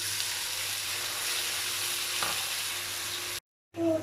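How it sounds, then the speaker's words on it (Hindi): Garlic, ginger and orange zest sizzle steadily in a pan over a low flame while being stirred, a continuous close frying hiss that cuts out briefly near the end. "ये जेस्ट ऑरेंज डाल के मिक्स कर रही हूँ, लो फ्लेम पे बना रही हूँ मैं इसको।"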